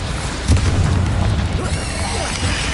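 A Bombarda spell goes off in Hogwarts Legacy gameplay on PS5 with a loud, close boom, followed by a rumbling low-end wash of game sound and effects that continues to the end.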